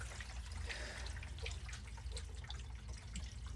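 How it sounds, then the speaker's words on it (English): A water-powered sump pump, driven by city water, sucks water out of a sump hole with a steady rushing, gurgling flow of water that runs continuously and fairly close, with no talking. "I just triggered it there, and it'll suck water out of the hole."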